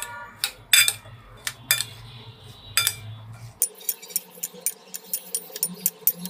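A spoon scrapes and clinks against a bowl while raw green mango mash is mixed by hand, with irregular sharp taps that become a quick, steady clinking rhythm in the second half.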